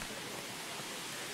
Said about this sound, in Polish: Widzę wodospad.